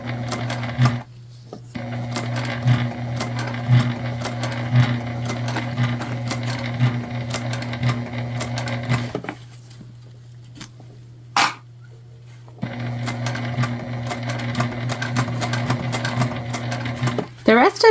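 A sewing machine stitches a book bag tote in long steady runs of loud mechanical whirring, pausing briefly between seams, with faint handling sounds in the gaps.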